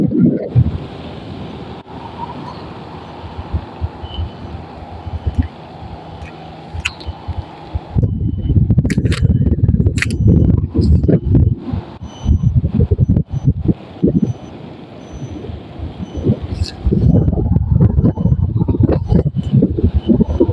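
Strong wind buffets an outdoor microphone during a ride, a continuous loud roaring rush that swells into harsher gusts partway through, with no clear speech.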